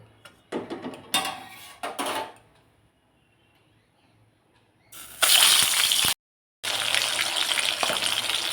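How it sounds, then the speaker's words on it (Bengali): Tengra fish frying in hot oil in a pan at home, loud bursts of hissing sizzle that cut off sharply, preceded by a few short clattery splashes and a quiet lull. "তো দেখতেই পাচ্ছ ট্যাঙা মাছগুলো এখানে ভালো করে আমি ভেজে নিচ্ছি"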